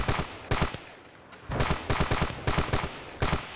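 Patriot rifle gunfire in the video game Ravenfield cracks out in quick bursts of sharp shots separated by brief pauses, loud and close with no talking.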